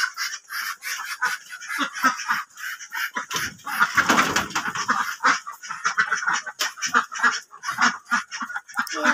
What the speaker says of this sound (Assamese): এইটা আমাৰ হাঁহ আৰু গৰুকেইটা মায়ে আনি বান্ধিলে